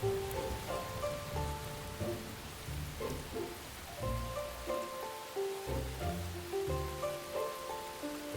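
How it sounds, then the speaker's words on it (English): Steady rain falling on surfaces outdoors, a continuous soft patter under tonal background music, with no voices. "It's raining! It's raining!"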